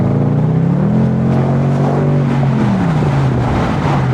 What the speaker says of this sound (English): Done some changes with the exhaust pipes and did a decat, and now the car sounds really, really lovely the way it should